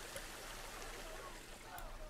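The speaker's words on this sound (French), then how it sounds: "Ici, on arrive, on a une cascade assez sympa aussi." Steady rushing water from a waterfall in a zoo-building video game, a continuous broadband wash holding level throughout, with faint talk mixed in.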